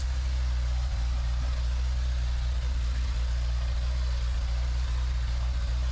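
An old Soviet truck engine drones steadily while driving, a constant low heavy rumble with no change in pitch or loudness and no voices.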